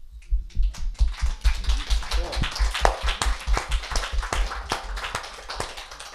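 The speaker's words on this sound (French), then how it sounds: "Ah, on l'applaudit." A small audience claps for a performer at a music-theatre talk, a sparse, uneven run of individual claps and taps, fairly quiet and distant, with a low rumble underneath.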